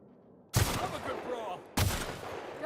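Sniper fire in The Outer Worlds video game: two loud, sharp gunshots about a second apart, each with a long rumbling tail.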